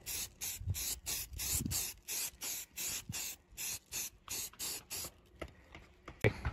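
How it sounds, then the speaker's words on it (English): Rust-Oleum filler primer hisses from a spray can in a rhythmic run of short, close bursts separated by brief pauses, eventually tapering off into quieter sounds near the end. "So I'm just going to fill this now with some filler primer"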